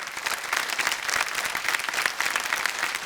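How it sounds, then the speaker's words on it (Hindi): A live audience at a women's empowerment event applauds steadily to welcome performers onto the stage, with dense, sustained clapping throughout and no talking over it. "Please, please, please welcome them to the stage with a warm, warm round of applause"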